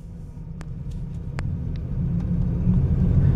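An 11-year-old truck with 200,000 miles on it and a brake warning light fault rumbles steadily from inside the cab, its low drone growing louder, with a few sharp clicks and rattles on top.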